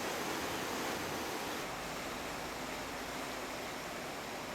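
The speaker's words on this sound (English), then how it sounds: "the Geiranger River rushes under the bridge and into the fjord." The Geiranger River in Norway rushes under a bridge into the fjord near a campsite, giving a steady, unbroken watery hiss that stays fairly faint and even throughout.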